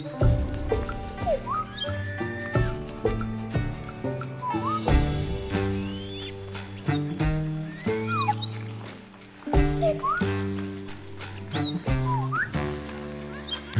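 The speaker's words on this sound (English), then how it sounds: "The little whistle sounds are kind of interesting too." Little whistle sound effects from the card video game Foretales chirp and slide repeatedly over a continuous, busy music score, light and high-pitched, with no talking.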